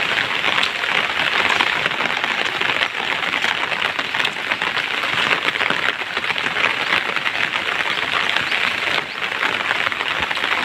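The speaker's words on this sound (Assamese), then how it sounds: "আজি বহুত দিনৰ পাছত বৰষুণ পৰিছে" Rain pours after a long dry spell, a dense, even hiss of drops striking surfaces nearby that holds steady without a break.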